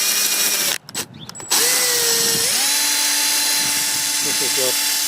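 Honing tool spun in a power drill to break the glaze in an A-type overdrive part, a loud steady whine that cuts out briefly, then restarts and shifts pitch as it works.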